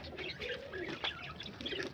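Pigeons coo softly around a home rooftop, low murmuring calls mixed with faint chirps and a brief flutter, fairly quiet and continuous over steady background noise.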